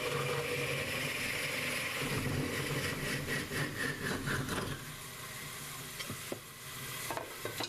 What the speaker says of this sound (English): I turn my lathe speed down, get my saw blade, and I'll start parting them off